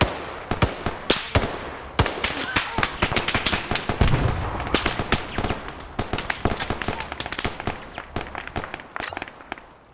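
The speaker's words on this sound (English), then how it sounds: "Yeah, they're shooting back." Sharp gunfire crackles through a video game battle, with dense rapid shots and bursts firing almost continuously, some loud and close, others lighter and more distant, with no voices.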